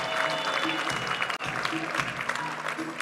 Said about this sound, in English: Give them a round of applause.